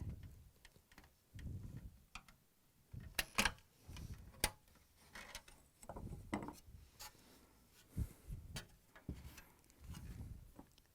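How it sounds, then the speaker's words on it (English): A flat blade screwdriver pries the plastic tabs of a humidity control slide off a Frigidaire/Electrolux refrigerator frame, giving a string of sharp, close clicks and snaps in irregular bursts, with no talking. "we need to use a flat blade screwdriver and pry the tabs off the frame"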